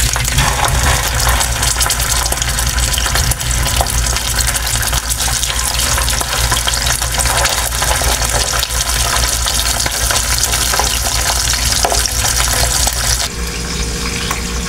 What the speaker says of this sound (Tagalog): So habang piniprito ko po yung daing na sariwa